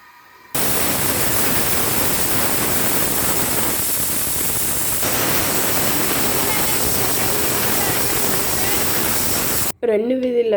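A pressure cooker holding cluster bean and toor dal curry lets out a loud, steady steam hiss. It starts abruptly, holds for about nine seconds, then cuts off, and a voice follows briefly.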